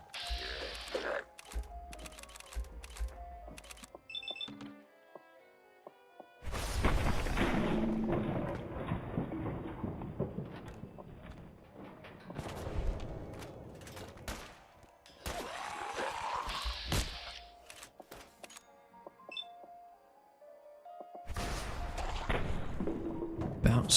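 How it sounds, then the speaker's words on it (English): Heavy thumps and impacts from a bowling ball launcher in Fallout 4, firing in several bursts with clanking mechanical noise and game sounds between quieter gaps. "Maybe time for the bowling ball launcher."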